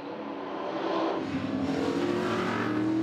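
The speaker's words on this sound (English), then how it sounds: "Onboard Ross Golding's Commodore as Andrew Turner up ahead runs wide" A Holden Commodore muscle race car roars in an onboard view while racing at Eastern Creek, its engine loud, close and continuous, rising in pitch as it accelerates, with no voices.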